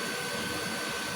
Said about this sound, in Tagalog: Naka ano siya Naka tatlong blower, pero hindi niya kaya talaga guys.